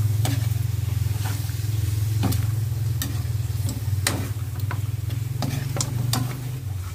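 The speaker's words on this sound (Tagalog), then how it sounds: "Lutuin lang natin saglit yung toyo nya." Soy sauce cooking in a pan with duck adobo, a steady low bubbling simmer under a continuous hum, with scattered clicks and taps of a utensil against the pan.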